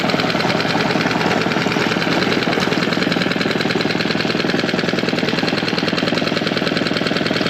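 A Tohatsu 6hp outboard motor idling, a loud, steady, close putter with a rapid even knocking rhythm that continues without a break.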